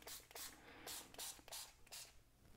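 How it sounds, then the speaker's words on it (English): Paint sprayed from a can onto craft cave door pieces set on a piece of foam, in a series of short airy hissing bursts with brief gaps, close and fairly quiet. "spraying every side"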